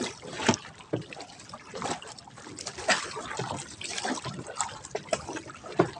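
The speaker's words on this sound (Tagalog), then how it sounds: "Ito, naglalatag ng nakasagwan." A wooden fishing boat paddled on open water with its engine off, irregular splashes and gurgles from the paddle strokes, close by, with no voices heard.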